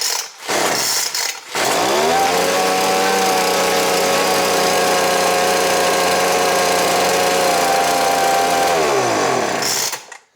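A Poulan Pro leaf blower's small two-stroke engine catches after a pull start and runs steadily at a loud, even idle for several seconds, then cuts off abruptly at the end.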